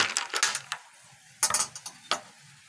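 Someone stirs a glass of blueberry fruit soda, making a few short clinking, scraping bursts in two quick clusters separated by brief quiet.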